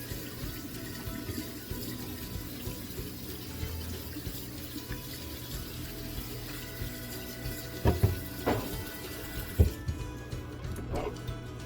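Cold water runs steadily from a tap for several seconds, with a few clattering knocks and splashes near the end as something is rinsed underneath.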